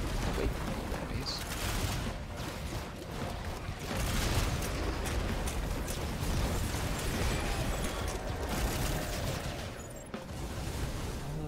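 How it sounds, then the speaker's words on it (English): Dense, continuous barrage of small bursts and pops crackling throughout, like rapid explosions in the video game Risk of Rain 2, layered over a constant rumbling background. "All those little explosions."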